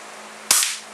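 A single sharp crack from a Marksman repeater BB pistol, close and loud, over quiet background noise.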